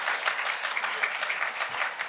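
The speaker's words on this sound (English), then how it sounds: "Please, a round of applause." Steady applause from an awards-event audience fills the whole stretch, dense and even, with no voices over it.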